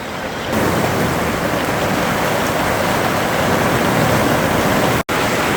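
Heavy rain pours down outside a greenhouse as a dense, loud, unbroken roar of broadband noise, steady throughout apart from one very brief dropout near the end, with no voices.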